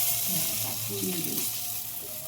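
Dried red chillies and bay leaves sizzle in hot oil while cooking puja bhog, a steady frying hiss throughout with a little low stirring noise.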